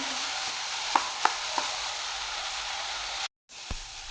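Masala paste is stirred into stuffed fish with translucent onions in a frying pan, giving a steady close sizzle broken by a few sharp utensil taps and a short gap.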